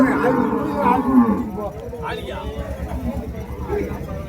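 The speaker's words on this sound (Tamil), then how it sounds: "ஸோ மூணுமே வண்டி மாடுங்க தான்." Cattle moo at a busy cattle market in Uthangarai, Krishnagiri district, with several drawn-out calls under near, steady talking.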